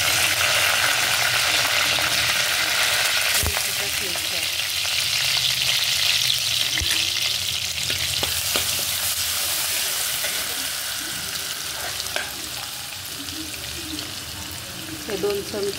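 Curry leaves frying in hot oil in a kadhai, a steady broadband sizzle running throughout with a few sharp crackles and pops, easing slightly toward the end.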